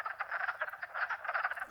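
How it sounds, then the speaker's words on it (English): Wood frogs call at a spring breeding pond, a rapid run of short clucking croaks that overlap in a busy chorus and hold at a moderate level. "Hundreds of wood frogs travel to reach our ponds, where all the breeding happens in just a few nights."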